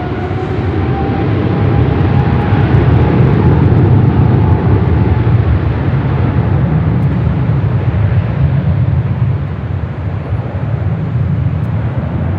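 An Air France Boeing 777 airliner turns on the taxiway at Los Angeles International Airport, its engines giving a steady, loud low rumble and broad roar that holds throughout with no voices.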